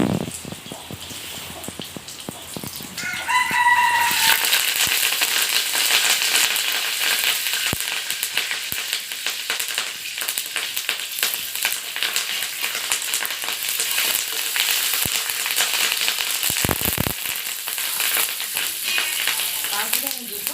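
Curry leaves and panch phoron drop into hot oil for a Bengali-style egg curry, setting off a sudden loud, steady crackling sizzle close up that continues throughout with scattered pops.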